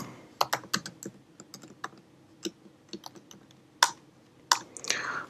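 Fingers type on a computer keyboard while PHP code is entered, close irregular bursts of crisp key clicks with short pauses between them.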